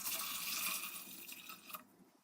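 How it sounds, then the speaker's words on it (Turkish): Water pours steadily into a pot of kumquats for a couple of seconds, then stops, close and moderately loud. "Üzerine geçecek kadar su ekliyorum."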